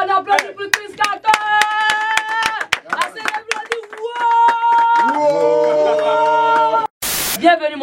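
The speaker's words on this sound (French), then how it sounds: "on applaudit pour Chris Cato" Clapping hands of a radio studio audience welcome a guest on Alpha Blondy FM, mixed under loud music and a talking voice, ending with a short burst of noise.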